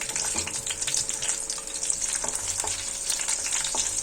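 Three green chilies fry in hot oil with ginger and garlic while being stirred, a steady bright sizzle broken by scraping spoon strokes, close and with no talking.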